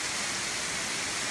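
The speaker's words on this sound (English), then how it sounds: "Literally two steps and you can see this amazing waterfall." Steady broadband rush of a waterfall in a river gorge, a dense continuous roar without breaks, heard alone with no voices over it.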